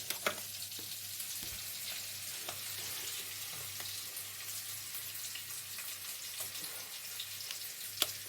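Sea crab fries in a pan while spices go in. A soft, continuous sizzle runs under scattered light clicks and stirring taps, with one sharper knock near the end and no voices.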